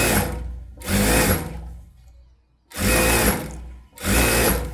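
A sewing machine runs an edge stitch along a blouse in four loud, close bursts of whirring separated by short pauses, each run humming steadily before it stops.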